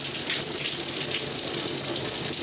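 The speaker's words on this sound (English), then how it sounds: "Here's like a massager thing that sprays water. Tighter jet, that's the tightest jet they have." A hotel shower sprayer running in a tight jet mode, a steady hissing rush of water, close and constant throughout with no talking.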